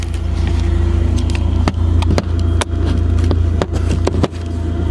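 Porsche with a swapped-in Subaru engine pulling away, a loud, steady engine drone held close throughout with a few brief dips and clicks as it drives off.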